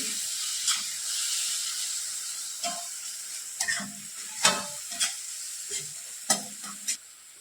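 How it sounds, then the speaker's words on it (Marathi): Spices sizzle softly in oil in a kadhai with added water, a low steady hiss punctuated by repeated sharp ladle taps and scrapes against the pan, close by and with no speech. "मसाले छान तेलात परतले"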